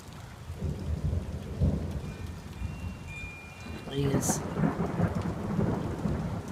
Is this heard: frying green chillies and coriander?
no